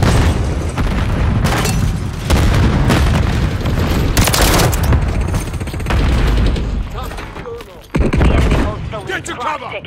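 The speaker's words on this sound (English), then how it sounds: "Stun grenade!" A stun grenade goes off in Call of Duty Modern Warfare III during a team deathmatch, with loud booming blasts amid heavy gunfire and dense battle noise, then a sharp burst near the end, with voices shouting over the action.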